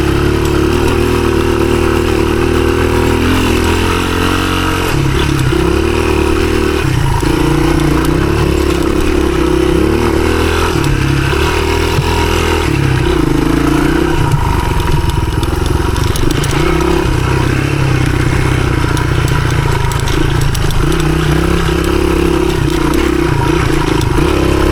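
A 1983 Honda XR200R dirt bike rides an enduro trail loop, its engine loud and close, droning steadily in one gear with a pinned throttle and a clattering rattle throughout, no voices over it.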